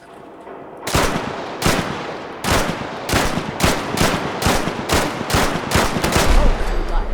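Gunfire in the post-apocalyptic shooter game Fallout 4: a burst of about a dozen sharp, loud shots at an irregular, rapid rhythm, evenly strong throughout with no talk over it.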